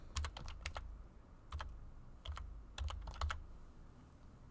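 Keystrokes on a computer keyboard as a username is entered at a Windows login for Check Point VPN and remote desktop access, arriving in several quick, quiet bursts of clicking taps with short pauses between.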